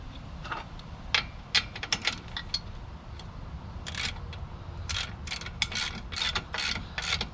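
Ratcheting clicks from tightening the bolt down on a Swagman E-Spec RV-rated bike rack, delivered in quick bursts of close, crisp ticks with brief pauses between strokes.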